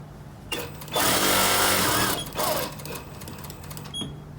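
Sewing machine stitching the box seam of a waterfall throw pillow, running in two close-up bursts, a long steady whir and a shorter one, with faint clicks and a low hum between.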